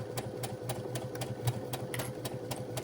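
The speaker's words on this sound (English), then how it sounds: "we're going to lock our stitches in place at the beginning and at the end of this line of sewing" A sewing machine runs steadily as it stitches a straight line on fabric for a Velcro pouch, producing a fast, even mechanical clatter with a low motor hum underneath, close and continuous.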